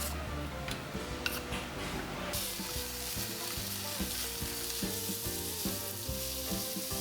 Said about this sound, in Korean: 프라이팬에 베이컨을 넣고 볶아주세요.